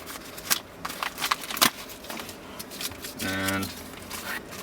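A bubble-packing envelope being ripped open in a quiet room, with several sharp close tearing and crackling bursts followed by a brief rustle.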